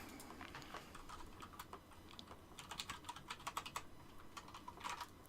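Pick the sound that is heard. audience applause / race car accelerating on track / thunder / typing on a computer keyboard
typing on a computer keyboard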